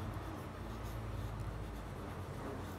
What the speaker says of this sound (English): I'm using the side of my pencil for this.